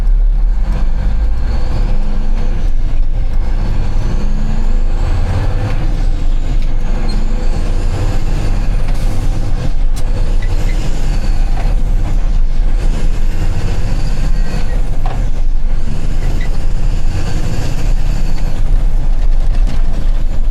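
Mack truck with a repaired clutch driving along, a loud continuous low engine drone and road rumble from inside the cab, steady throughout with gear and air sounds rising and falling.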